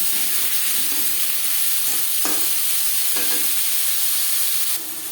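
Four chopped onions and three tomatoes fry in oil in a pan for a fish roe curry, a loud, continuous close sizzle with a few soft stirring scrapes and no talking.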